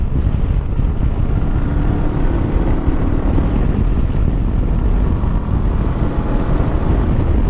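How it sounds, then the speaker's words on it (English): Honda NX500 adventure bike with a 180-degree parallel twin engine, heard while riding: a steady, loud engine drone mixed with heavy wind rush at the microphone, continuous with no pauses. "that mid-range sort of grunt for a 180-degree parallel twin, it sounds really good"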